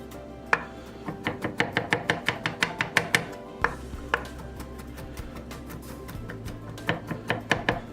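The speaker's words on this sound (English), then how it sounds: "And then just take your knife," A knife chops garlic on a cutting board in a rapid, steady run of sharp, close taps, breaking briefly partway through before resuming, with no voices.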